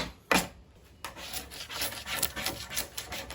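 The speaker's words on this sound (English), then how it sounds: "you can fairly rapidly do this with the spatula" A spatula scrapes bubbled clear coat off a surface in close, rough, rasping strokes. A sharp scrape comes first, then a run of continuous grinding rubs with no voices.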